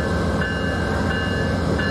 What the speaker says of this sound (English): 904's horn.